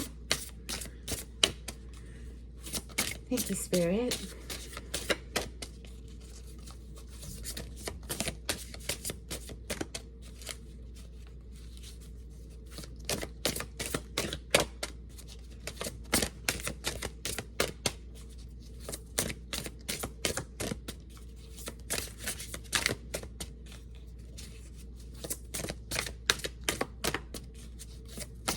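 An oversized Spirit Animals oracle deck shuffled by hand in an awkward grip, giving long runs of close, dry, rapid card clicks with brief pauses and a few quiet spoken words.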